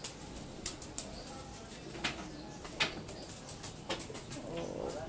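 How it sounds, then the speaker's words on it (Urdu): Pigeons coo quietly in a rooftop loft, with scattered soft clicks and shuffles from the birds and no clear talking. "بڑے زبردست بہت خوبصورت کبوتر"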